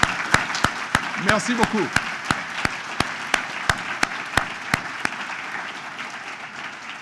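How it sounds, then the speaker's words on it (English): Evenly spaced, crisp claps ring out at a ceremony for incoming medical students, honoring their families and friends. A short spoken phrase cuts in near the start, then the steady clapping carries on alone. "So I want you to give a nice round of applause for them who are here today."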